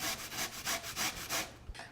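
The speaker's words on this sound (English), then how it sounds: "if you use the finer side of your grater, it should look something like this, thin shreds." Sweet potatoes shredded on the finer side of a grater, about five even rasping strokes in a steady rhythm, close but soft, ending with a small knock.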